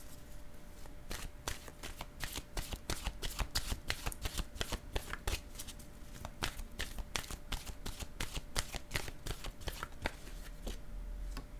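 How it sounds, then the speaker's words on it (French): A deck of oracle cards is shuffled steadily, with rapid riffling snaps and flutters repeating close up, alone without talk. "Je vais demander maintenant une carte de mon oracle de l'âme intuitive."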